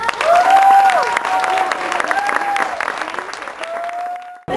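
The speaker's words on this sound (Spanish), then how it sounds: "Les pido un aplauso para ellos" A concert crowd applauds and cheers for a band at its tenth-anniversary show, loud sustained clapping mixed with whistles and shouts that fades before a sudden cut.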